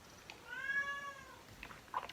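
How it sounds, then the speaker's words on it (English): An indoor house cat meows once in a drawn-out, slightly falling cry, faint and in the background, followed by a few soft rustles. "I'm already being harassed by a noisy cat."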